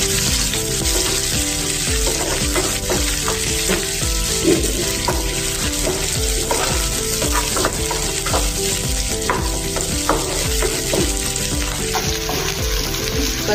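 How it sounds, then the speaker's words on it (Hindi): Finely chopped onion sizzling with mustard seeds and cumin in hot oil, a loud continuous crackle and hiss with bubbling and spatter, close up and steady throughout, no voices. "इसमें अभी हम प्याज डालेंगे बारीक कटा हुआ"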